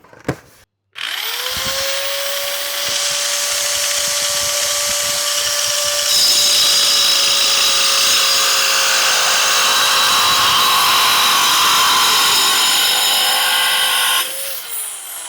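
A tiny 4-inch circular saw cuts freehand through a sheet of plexiglass, a steady loud high whine running for about thirteen seconds after a brief startup, then spinning down at the end.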